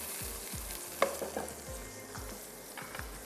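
Ground cashew paste frying in a pan for makhni vegetables, a soft close sizzle with several stirring scrapes at a steady pace and one sharp clink, no talking.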